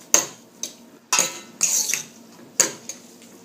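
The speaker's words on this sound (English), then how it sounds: "Stir that again." Metal utensils clink and scrape against a pan while pasta aglio e olio with parsley is stirred and tossed, a few sharp bursts of clatter spaced about a second apart, close and fairly loud.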